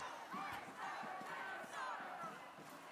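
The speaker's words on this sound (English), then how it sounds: "Just so you understand how giant these crowds were." A huge protest crowd on a freezing winter day, many voices shouting and chanting in rising and falling waves, distant and continuous with no single speaker standing out.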